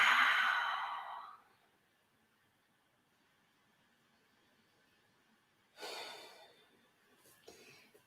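Slow, breathy exhale during a yoga child's pose, a soft rushing breath at the start that fades into near silence, followed later by another faint airy breath and a brief rustle.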